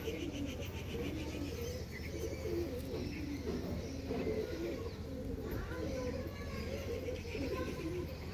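Madras pigeons, a group of adult males and females, coo softly in a steady, overlapping murmur close by, with faint chirps and background voices around them.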